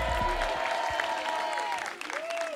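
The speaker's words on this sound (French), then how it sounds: "on l'applaudit bien fort" A television show audience gives a returning guest a warm round of applause, sustained clapping and some crowd noise running under a host's voice and a tonal sound.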